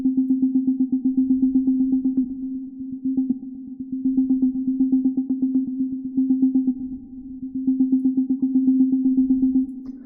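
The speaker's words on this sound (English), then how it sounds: "Add a bit of reverb to that." A VCV Rack modular synth patch run through reverb: a steady, clock-driven stream of rapid pulses on a sustained low tone, with a soft decaying tail around each hit. It plays continuously, with slight swells, and no voices.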